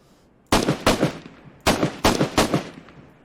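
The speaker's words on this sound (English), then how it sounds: "It's a machine gun." Bursts of machine gun fire from ARMA 3, an RPK light machine gun with a drum magazine, come as two short, loud, close-range strings of rapid shots separated by a brief pause, each trailing into echo.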